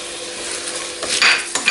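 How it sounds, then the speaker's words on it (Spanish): Onion and garlic clove go into a pot for sautéing for a fish fumet, giving a steady close sizzle with a few brief scraping and clattering stirs near the end. "Lo vamos a sofreír"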